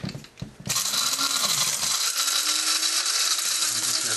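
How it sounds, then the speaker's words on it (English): An electric coffee grinder whirs loudly and steadily as it grinds dried chilies into chili powder, after a few brief clicks and rattles at the start. "This happens to be a coffee grinder."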